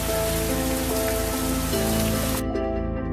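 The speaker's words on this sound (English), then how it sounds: "it just rained all night. It hasn't stopped. It was the heaviest rain I've ever heard." Heavy rain from an ex-tropical cyclone pours down in a dense, loud, unbroken roar, with the hiss dropping away abruptly near the end while a lower drumming continues.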